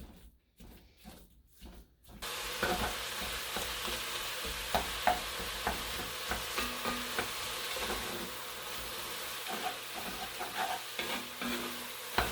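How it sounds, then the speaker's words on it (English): Ground beef and onions frying in a Dutch oven, brief quiet handling at first, then a continuous close sizzle with intermittent scraping stirs and clacks of a utensil, no voices. "We're going to cook this beef up real good with the onions."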